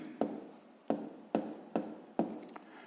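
Writing numbers by hand while solving a fifth-grade math division exercise, five short scratchy strokes of pen or chalk in an uneven rhythm, close and faint.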